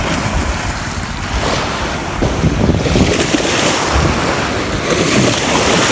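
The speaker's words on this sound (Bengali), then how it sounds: "এই বড় ঢেউ চলে আসছে এখানে" Large river waves break steadily along a shore where small boats are moored, making a loud, continuous wash mixed with wind noise on the microphone.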